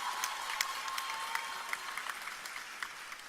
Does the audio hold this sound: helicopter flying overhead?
no